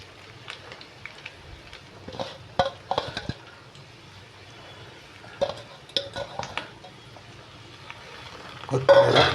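Chicken fry with cashews and coriander being stirred in a pan, with intermittent scrapes and soft clatter over a faint sizzle, close up and fairly quiet.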